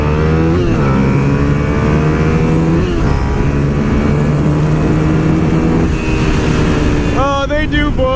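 A Suzuki SV650S motorcycle revs and accelerates loudly close by, its engine note rising in repeated pulls with a gear-change dip, then a high whine near the end.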